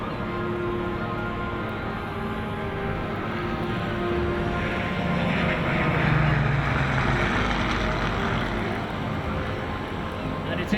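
A Hawker Hurricane of the Battle of Britain Memorial Flight flying an airshow display at Sunderland, a continuous piston-engine drone that swells as it passes and then fades slightly, with a commentator talking over it.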